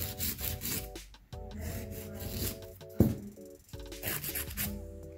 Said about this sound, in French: Et mon bord libre en tenant ma lime bien droite pour enlever les bosses qu'il y a de côté.